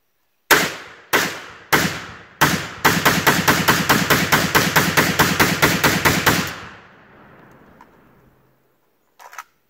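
Gunfire empties a magazine at a bottle target, starting with four loud, spaced single shots and then breaking into a rapid, even string of close reports that ring out into a fading echo. One faint extra burst comes at the end.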